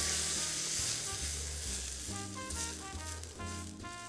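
Mushrooms sizzle steadily in a hot pan while chicken piccata is being prepared, a continuous close frying hiss with a low hum beneath and no voices.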